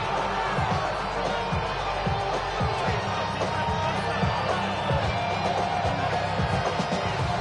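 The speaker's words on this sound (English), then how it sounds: "This crowd into it now as we get to 3rd down." A stadium crowd at a Madden 26 football game roars and cheers continuously toward third down late in the game, with thumping impacts and a broadcast-style voice talking over it.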